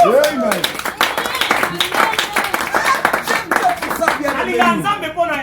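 A church congregation claps and cheers in praise, steady dense applause with voices calling out over it throughout.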